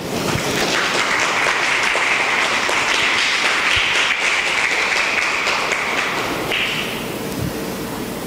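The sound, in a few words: audience applauding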